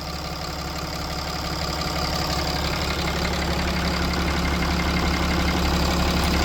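A Cummins 6.7L diesel in a 2012 RAM 5500 truck idles close by with a steady, even clatter and low drone that holds unchanged throughout, with no voices.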